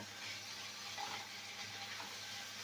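Small puti fish being stirred and fried in a little oil in a pan, a faint, steady sizzle and hiss with soft stirring scrapes, continuous and low in level.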